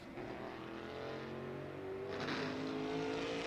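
A NASCAR Whelen Modified race car laps Martinsville Speedway, its engine droning steadily at a distance and rising in pitch as it accelerates off a turn, with a constant crowd-and-track wash beneath.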